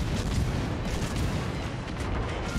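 Light cruiser guns firing in a naval video game, a dense, rumbling barrage of booms that fills the whole moment without a break, loud and heavy, with no clear speech.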